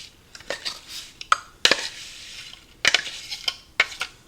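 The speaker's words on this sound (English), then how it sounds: "Going to use a fork and flatten this down evenly onto the bottom" Fork pressing and scraping an Oreo cookie crumb and butter crust flat in a baking dish, a handful of close clinks and scrapes separated by brief quiet gaps.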